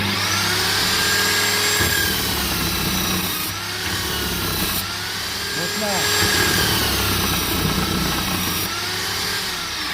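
A steady grinding whir of a lawnmower blade being sharpened against an abrasive wheel runs throughout, loud and close, with a voice speaking over it.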